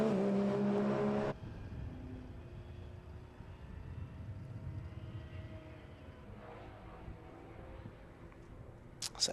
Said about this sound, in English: just the waiting for the final few cars to come through now